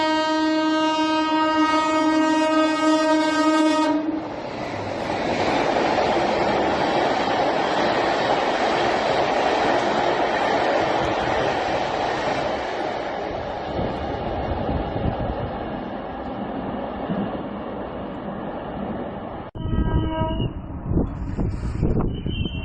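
A train on a high-speed trial run on the Katra-Banihal rail section in Jammu and Kashmir sounds a long, loud horn, then roars past with heavy rumble and clatter, and a second horn blast follows near the end.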